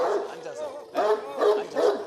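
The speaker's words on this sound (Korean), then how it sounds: "얘네도 올 때마다 짖네" Several very large Ovcharka dogs bark at a visitor, loud close barks in bursts with short whimpering and yipping between them, mixed with a person's voice.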